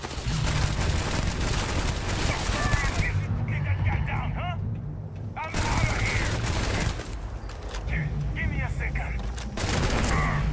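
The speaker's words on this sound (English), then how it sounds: "I'm gonna shoot you in the butt" Gunfire in Starfield combat, with dense bursts of rapid shots and crackling impacts in two long stretches separated by short lulls, while voices and sci-fi effects sound in between.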